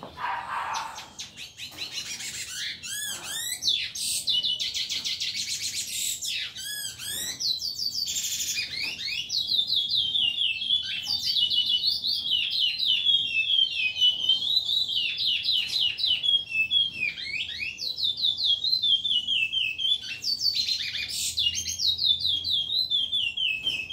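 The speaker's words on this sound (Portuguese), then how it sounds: "A fêmea tá ali embaixo trocando canto, macho canto, pardo canto" Curió seed finches, a male and a female, trade song, with bright, warbling whistled phrases repeating close by and steadily throughout, fairly loud against a quiet background with no talking.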